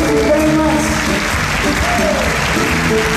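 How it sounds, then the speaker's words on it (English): Concert audience at a 2015 show at Haus der Kulturen der Welt in Berlin clapping along, a dense continuous wall of hands with sung or sustained musical tones faintly audible over it. "if you want to continue to clap your hands with us"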